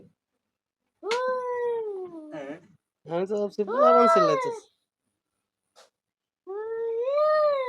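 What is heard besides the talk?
cat making unusual human-like vocal sounds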